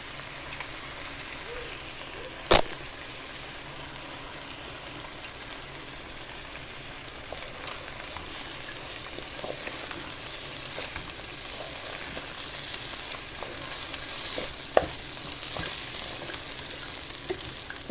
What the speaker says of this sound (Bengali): চালটা এখন কিন্তু ভালো মতো ভাজে নিতে হবে।